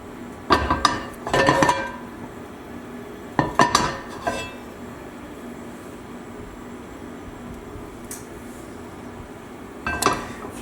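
Oil shaken around in a wiped-out frying pan for steaks, giving a few short bursts of metallic rattling and scraping, each about a second long and separated by quiet pauses.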